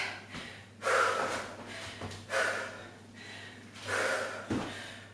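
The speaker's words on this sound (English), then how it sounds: "I am breathing heavy." Heavy breathing from a person working through a leg exercise, with loud, close gasping breaths and snorting exhales coming in uneven bursts about once a second.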